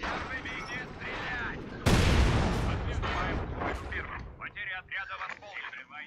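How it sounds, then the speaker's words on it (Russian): Artillery shelling in the Company of Heroes 2 video game: a sudden loud blast followed by rumbling explosions and scattered gunfire, with someone talking over the battle. "Какой-то обстрел пошел"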